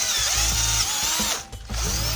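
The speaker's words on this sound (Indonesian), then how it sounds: "Oke, langsung kita bor ya" A power drill bores into a stripped bolt at close range, its high whine holding steady, briefly dipping as the bit catches, then spinning back up under load.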